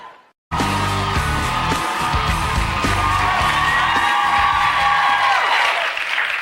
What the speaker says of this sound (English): It's amazing how loud people clap when they do this.